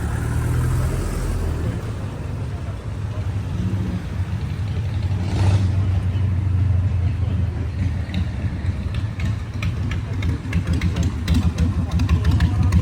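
Cars roll into a morning car meet in Rzeszów and idle nearby, a steady low engine rumble with occasional revs and passing vehicles under outdoor ambience, with no voices.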